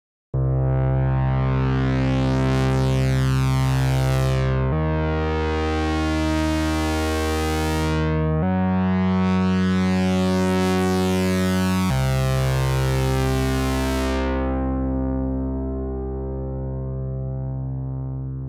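A Minimoog Model D analog synth plays a sustained, loud tone whose filter envelope sweeps, with the brightness shifting and closing down across a series of held notes, heard alone.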